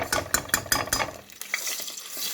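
Tomato paste stirred in hot sunflower oil: about half a dozen quick, scraping spoon strokes over a steady sizzle, then a quieter stretch where the frying hiss continues with a few light clicks.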